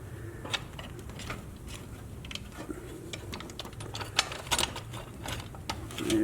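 Small metallic clicks, taps and rattles come from a bolt and spacer being fitted during air conditioning and heater work on a 1979 Jeep Cherokee Chief, quiet and close with no talk.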